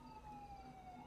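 Emergency sirens wailing in a steady, continuous tone, distant and faint beneath a low background hum, with no voices.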